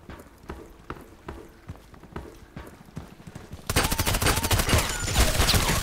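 Scorpion submachine gun fire in Contract Wars, scattered single shots and short bursts at first, then a loud, rapid continuous burst of automatic fire close up during the final two seconds.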